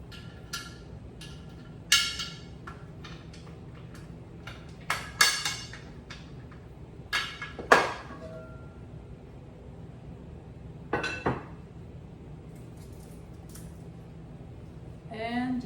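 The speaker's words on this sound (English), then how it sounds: "we'll take the jars out of this pressure cooker, which is cold to the touch" Glass jars clink and knock as they are lifted one by one from a cold pressure cooker after sterilizing mushroom substrate, giving scattered sharp taps and clinks with quiet gaps, a voice talking in the background.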